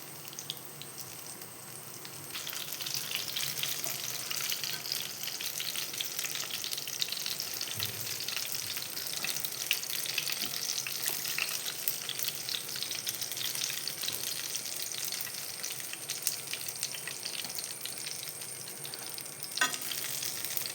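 Banana fritters (pazham pori) made from small bananas fry in hot oil, a steady dense sizzle with occasional faint stirring clinks, heard close and alone with no talking.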